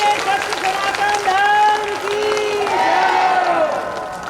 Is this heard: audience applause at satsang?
yes